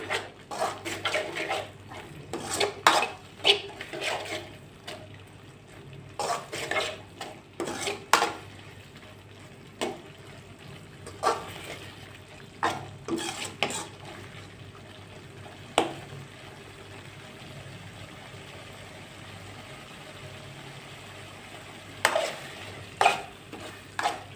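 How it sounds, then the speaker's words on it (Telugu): Ginger garlic paste frying with tomatoes in a pan for chicken curry, with repeated sharp clinks of a utensil stirring against the pot over a low steady cooking hiss, loud bursts of scraping spaced irregularly throughout. "వేసి కాసేపు వేయించుకుందాం."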